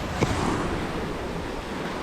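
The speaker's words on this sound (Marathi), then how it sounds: "फक्त पाण्याचा आवाज बघा" Sea waves wash steadily onto Devghali beach near Kasheli, Ratnagiri, a continuous close roar of surf with light wind buffeting the microphone and no voices.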